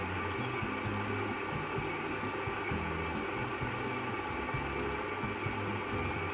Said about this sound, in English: Now I'm gonna try using the stand mixer.